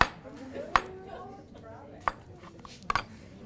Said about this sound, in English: that didn't take us very long to get all our cucumbers cut